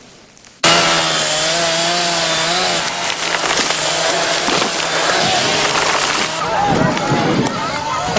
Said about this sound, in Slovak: len čo sa z lesa ozvali motorové píly